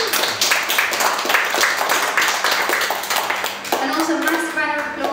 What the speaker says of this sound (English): Can you also give a massive round of applause for Saren as well